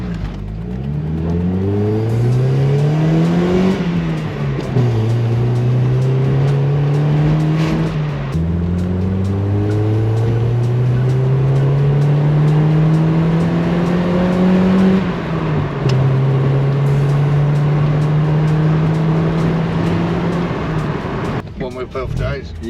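A Mazda Miata on a test drive after repairs, its engine revving up through the gears with rising pitch sweeps, shifts and steady cruising, loud and close from inside the car, with occasional talk.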